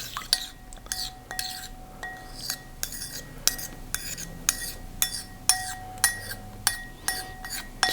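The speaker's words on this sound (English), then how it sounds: "So we put that in and stir it round." A metal spoon stirs dry active yeast into warm liquid in a glass bowl for panettone dough, with a run of bright rhythmic clinks against the glass, close and fairly loud, with no talking.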